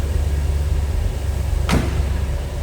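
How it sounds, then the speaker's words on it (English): A single solid door thud from a 1971 Chevrolet Corvette Convertible, close by, over a steady low engine hum. "That door closes nice."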